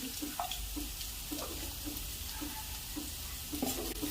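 Onions with curry leaves and turmeric sauté in a pan, a constant frying hiss broken by regular, evenly spaced spatula scrapes and taps close up, with no voices.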